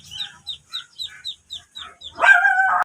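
A small Shih Tzu dog gives a quick series of sharp, high yaps in a steady rhythm, close by, followed by a longer, louder whining cry at the end.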